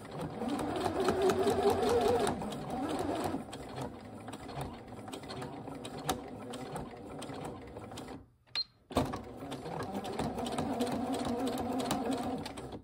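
A sewing machine stitches an invisible zipper with a fast, steady mechanical whir, pausing briefly near the end for a few slow clicks before running again, close and clear.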